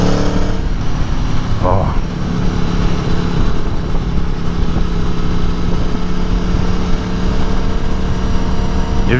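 A 2018 Aprilia Tuono rumbles through a test ride, the engine droning loud and steady close up with a quick-shift blip around the second mark and wind roar throughout, while the rider briefly exclaims.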